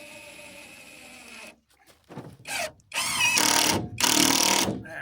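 A power drill drives a screw into wooden siding on an off-grid cabin build, with short bursts of whirring that build into two longer, loud runs near the end, with no talk over them.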